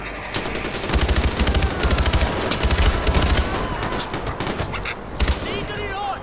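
Rapid automatic gunfire in Far Cry 4, bursts of fusillade and machine-gun fire over several seconds with explosions and game noise, loud and close, while voices shout over the fighting.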